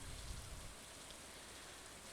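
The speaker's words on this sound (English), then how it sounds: "today is raining, so all the stuff I can do when it's raining, I can do today" Steady, soft rain in the farming game Stardew Valley, a faint, even hiss of falling drops with a slight low rumble at the start.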